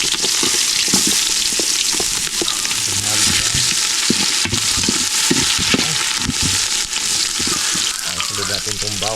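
Onions sizzle and fry loudly in a pan, with steady crackling and occasional stirring scrapes throughout, and a voice speaks briefly over the cooking.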